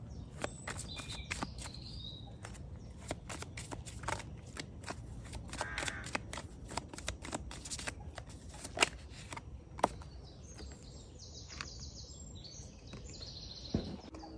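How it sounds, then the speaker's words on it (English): Oracle cards being shuffled in a quiet room, a run of soft papery riffles and flicks spread through the stretch, with faint bird chirps in the background and no talking. "while we shuffle to get a card"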